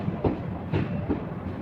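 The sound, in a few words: Mettur Dam Express train arriving at Mettur Dam station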